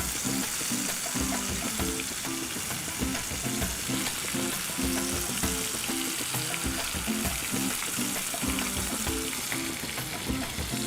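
Chicken for Goan chicken cafreal fries in hot oil with a dense, continuous sizzle. Rhythmic stirring scrapes pulse through the crackle at a steady pace, close and fairly loud, with no voices.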